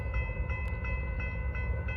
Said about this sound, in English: third train in an hour